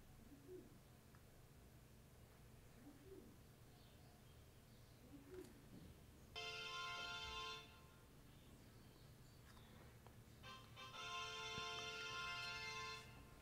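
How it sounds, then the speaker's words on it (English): Two bursts of a bright, electronic chime tone, a custom notification sound on a Samsung Galaxy A14, each lasting about a second or two, separated by quiet background hiss with faint low noises. "once you download a notification sound"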